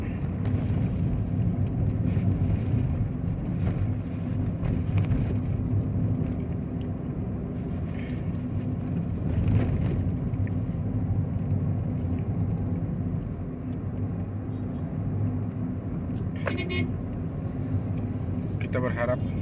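Steady low engine rumble and road noise of slow, congested holiday traffic on the Bukittinggi–Padang road after New Year 2023, continuous and close with wind buffeting, while a voice talks over it.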